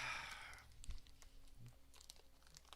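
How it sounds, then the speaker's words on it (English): Granola bar being eaten with its wrapper crinkling, faint close crackles and crunchy rustles, a burst of crinkling at the start and sparse crunches after. "Hold on, I'm eating a granola bar here."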